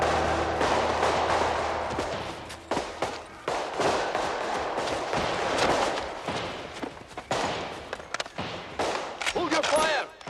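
Gunfire from a 1990 Hercule Poirot period drama, a chaotic spread of overlapping shots and bangs at varied distances, with voices shouting through the volley.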